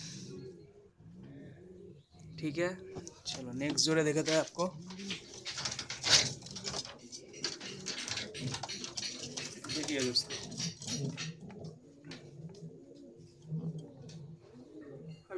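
Racing homer and Madrasi pigeons coo softly in a loft in Kolkata, low repeated calls close by, while someone talks over them throughout.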